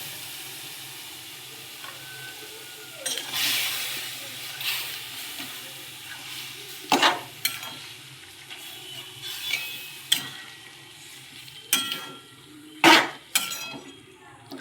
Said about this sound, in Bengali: কিছুক্ষণ নাড়তে থাকবো, সর্ষের কাঁচা গন্ধটা যতক্ষণ না যায়।